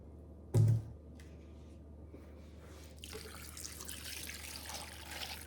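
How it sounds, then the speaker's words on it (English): Vinegar is poured into a mustard bean mixture for canning: a short splash up front, then a soft, steady trickle of liquid that continues quietly to the end, with no talking. "And then we're also going to be adding our vinegar."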